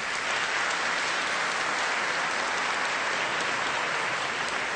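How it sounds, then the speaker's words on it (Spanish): A church congregation applauds after a baptism, a steady, dense wash of clapping that holds evenly from start to finish. "Un aplauso."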